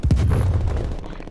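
A frag grenade blast in the Call of Duty: Black Ops Cold War multiplayer video game, a single loud, deep, booming explosion that rolls out and fades within about a second.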